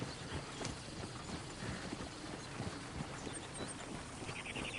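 Horses' hooves clip-clop steadily in Red Dead Redemption, a busy run of hoof beats set against a noisy, full outdoor game soundscape.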